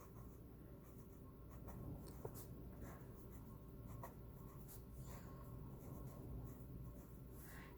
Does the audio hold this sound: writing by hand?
yes